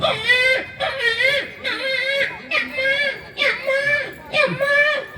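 A male folk performer at a Tamil villu paattu temple recital imitates a newborn baby's crying, repeated wailing bursts that rise and fall in a high, strained voice, loud and close.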